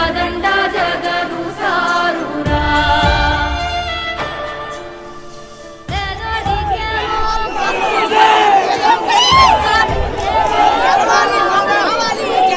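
Large outdoor crowd roaring and shouting at CM Jagan's bus yatra at Santhamaguluru cross road in Palnadu, a dense continuous din over loud music, swelling again after a brief drop midway.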